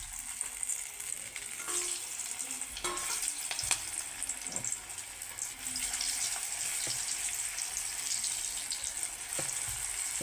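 Potato pieces for aloo kebab dropped one by one into hot oil and frying over a low flame, a steady close sizzle throughout with occasional brief clicks and splashes.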